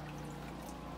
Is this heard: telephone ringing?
no